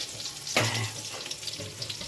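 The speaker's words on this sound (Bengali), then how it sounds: "বাঁধাকপি আলুগুলো ভেজে নেব, বাঁধাকপি আলুগুলো ভেজে নিলাম," Cabbage and potatoes frying in a wok, a sharp sizzle as they are tossed followed by a low continuous crackle with occasional stirring scrapes.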